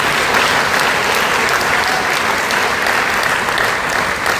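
Loud, sustained audience applause at a business plan presentation, a dense and even wash of clapping that fills the whole stretch without letting up.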